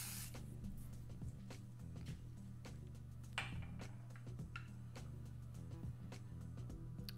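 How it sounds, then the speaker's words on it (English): Temporary adhesive spray misted onto an image in a series of short, close hissing bursts at a steady pace, with no voices. "I'm just going to give my image a light misting with the spray."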